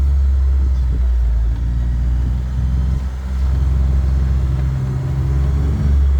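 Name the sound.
utility vehicle engine running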